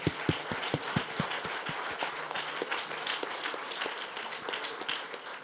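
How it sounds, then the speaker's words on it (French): Clapping from the audience at an engineering inventor award ceremony for the winner, sharp individual claps standing out near at first, then settling into steady, dense applause throughout. "Et vous pouvez l'applaudir, bien sûr."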